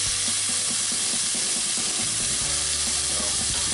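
Smoked clams browning in a Dutch oven, with a steady loud sizzle and frying crackle throughout and occasional stirring or shifting sounds, close up and with no talking.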